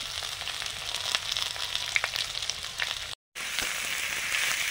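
Chopped onion frying in oil with partly fried potatoes for a spicy chorchori, a steady close sizzle with faint crackles throughout, broken by a brief silent gap before the hiss resumes.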